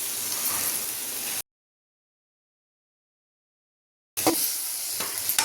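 Okra and masala sautéing in a pan for a fried-okra curry, a steady close sizzle with stirring scrapes, cut off by a stretch of silence before the frying resumes.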